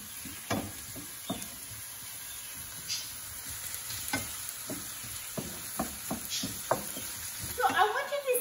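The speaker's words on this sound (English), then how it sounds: "It's just a little bit we sauteed with the olive oil." Onion with a pinch of paprika sautéing in olive oil gives a steady sizzle, with spatula scrapes and stirring knocks at irregular intervals and a louder clatter near the end.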